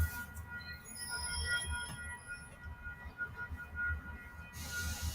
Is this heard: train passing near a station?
yes